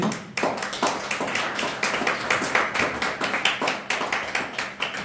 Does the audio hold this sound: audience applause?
yes